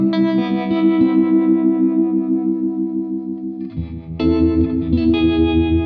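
An electric guitar played through a Fender '63 reverb pedal feeding a tremolo pedal, sustained chords shimmering and pulsing with wet, spacious reverb, then a fresh louder strum near the end; no talking.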